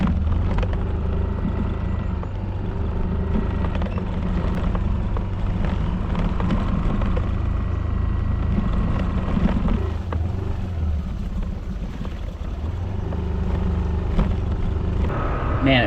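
A motorbike cruises along at a steady pace, its low engine drone continuous and close, mixed with wind rumble throughout.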